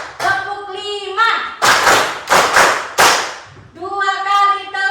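Students in a classroom clap in unison as part of a counted clapping routine: a handful of crisp, loud group claps in a quick series, with a voice speaking before and after.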